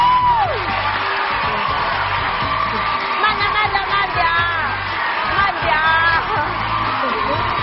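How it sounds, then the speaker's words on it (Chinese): A studio audience on a Chinese television talk show cheers, whoops and applauds loudly for arriving guests, a steady sustained crowd roar with shouts rising above it and no one speaking. "让我们掌声有请。"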